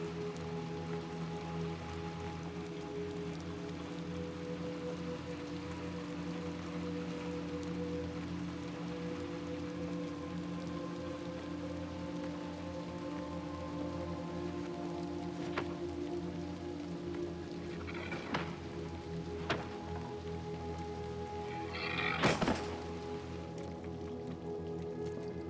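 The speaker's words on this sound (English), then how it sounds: "We're back out into the rain." Rain falls steadily in the video game Little Nightmares II, a soft continuous patter over a low ambient hum, with a few sharper knocks late on.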